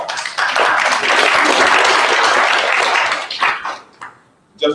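An audience applauds at a university board of supervisors meeting, a dense, loud burst of clapping lasting several seconds before thinning out into scattered claps.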